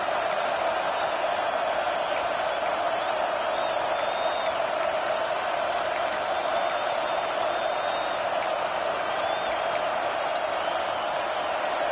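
Steady roar of a stadium crowd in an NCAA 26 college football video game as a field goal unit lines up, a constant loud wash with faint scattered whistles and shouts riding on top.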